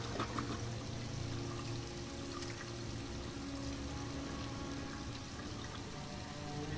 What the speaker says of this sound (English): Okay, so let's flush the toilet. Let's wash his hands.